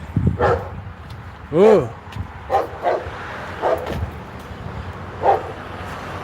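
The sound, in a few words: dogs barking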